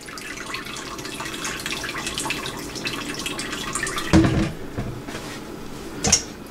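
Hot homemade chicken broth with carrots and celery pours in a thin steady stream into a pot, followed by a couple of sharp clunks of kitchenware, with no talking.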